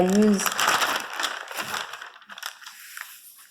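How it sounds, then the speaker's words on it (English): Baking parchment paper being folded by hand at a sewing table, a few crisp crinkling and crumpling rustles close by that fade to quiet. "I'll just fold up my baking parchment."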